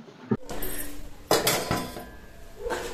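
A cooking pot being handled in a home kitchen, with a few sharp metallic clanks and clinks of cookware scattered over a few seconds, fairly close, with quiet rustling between.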